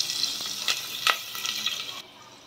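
Onion and chili hit hot oil with cumin seeds for khichdi, crackling in a bright steady sizzle with a few stirring scrapes, close up, easing off sharply after two seconds.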